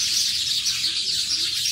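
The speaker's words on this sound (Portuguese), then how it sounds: "Essa única árvore reúne um monte de passarinhos." A dense chorus of many small birds chirping and twittering together in a single tree at sunset, continuous and lively, fairly close, with no voices.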